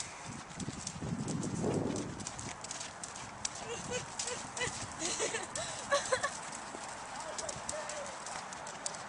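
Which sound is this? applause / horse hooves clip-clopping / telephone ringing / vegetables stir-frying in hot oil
horse hooves clip-clopping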